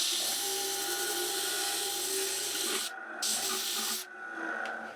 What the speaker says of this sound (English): I'm turning these rubber lined washers down to reduce the outside diameter.